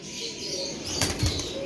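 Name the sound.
pigeon flapping its wings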